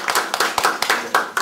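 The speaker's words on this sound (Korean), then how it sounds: "다시 한번 최준원 교수님을 큰 박수로 환영해 주시죠." An audience at a lecture hall claps in welcome for a professor, a light scattering of hand claps with irregular spacing, moderately quiet and without talk.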